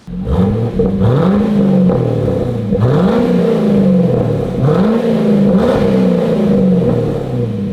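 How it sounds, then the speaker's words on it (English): A 2008 Chevrolet Corvette C6 with a Corsa Extreme catback exhaust, no mufflers or resonators, revs repeatedly, each blip rising and falling in a loud, close, rhythmic pattern with a steady idle rumble between. "It is the Corsa Extreme, no mufflers, no resonators, no MPP."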